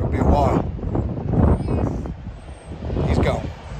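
Strong gusting wind buffets the microphone outdoors at a campground in Chincoteague, Virginia, with a loud steady low roar that swells and eases over a few seconds.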